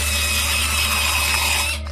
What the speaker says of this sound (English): They drill into your tooth,